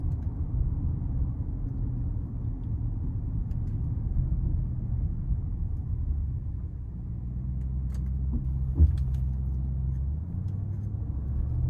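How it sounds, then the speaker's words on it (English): A 2025 Audi SQ7 with a twin-turbo V8 drones steadily while driving, a low, even cabin rumble with a brief knock partway through. "This is a twin turbo V8 straight up."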